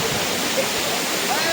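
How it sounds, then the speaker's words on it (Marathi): A waterfall along the trek route near Kedarnath gives a dense, steady rush of falling water that stays loud and even throughout. "त्याच्यानंतर आम्हाला एक रस्त्यात एक धबधबा भेटला. तुम्ही पाहू शकता हा धबधबा कसा आहे."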